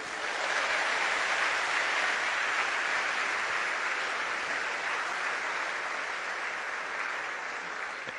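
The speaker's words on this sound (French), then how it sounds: "je demande qu'on l'applaudisse" A crowd at an official event applauds steadily for the First Lady of the Democratic Republic of the Congo, a dense, even wash of clapping lasting several seconds with no pauses.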